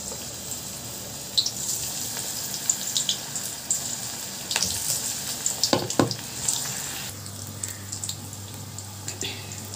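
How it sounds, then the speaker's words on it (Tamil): Masala-coated cauliflower for cauliflower 65 frying in hot oil, a steady close sizzle with scattered crackles and a few sharper pops and clinks from stirring, no talk. "இப்போ நம்ம எடுத்து வச்சுருக்க காலிஃப்ளவர் மசாலாவே அப்படியே எடுத்து போட்டுக்கலாம்."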